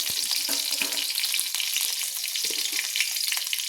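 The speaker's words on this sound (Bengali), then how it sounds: "দিয়ে একটু খুন্তি দিয়ে নেড়ে নিলাম।" Green chillies fry in hot oil while a spatula stirs them, producing a continuous close sizzle with occasional scraping knocks of the utensil against the pan.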